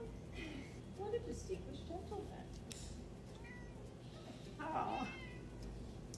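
A cat meows a few times out on a walk in the wilderness, the calls rising over a steady background while people coo and talk throughout.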